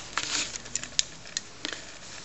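A TRS-80 Quick Printer II prints a short line of text on paper, giving quiet, irregular ticking and pattering print-head taps nearby.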